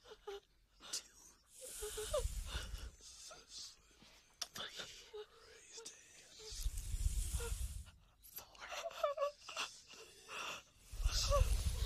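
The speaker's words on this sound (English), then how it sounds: "can you say something instead of just breathing in my ear" Heavy, dry breathing close to the ear in a horror short film, rising in loud breathy bursts with faint hisses between them, against a quiet background.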